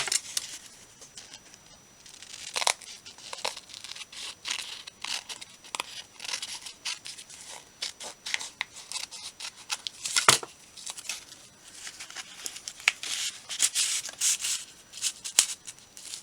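Paper glued into a craft journal being cut back with scissors, giving a steady patter of small snips and rustles, close and fairly quiet, with no talking.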